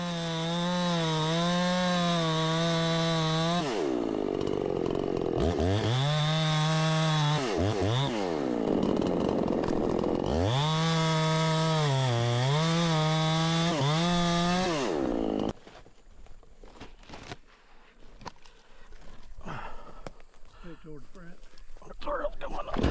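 A chainsaw cuts oak firewood in three long, loud revving bursts, the engine rising and dropping between cuts, then it cuts off into quieter outdoor background sounds.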